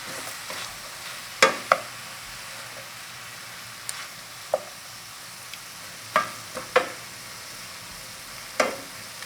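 Shrimp sauté in a pan with zucchini, giving a soft, even sizzle beneath scattered light clicks and taps from a utensil, close by and with no voices.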